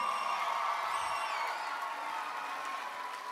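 Audience applause at a school holiday show, a fairly quiet, distant wash of clapping with faint cheering that stays even and slowly fades.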